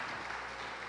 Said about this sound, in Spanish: dele un aplauso a la traductora.